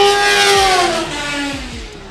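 A front-wheel-drive Honda drag car launching and accelerating at a drag strip, a loud rising, high-revving engine wail with quick gear-change drops as the car pulls away.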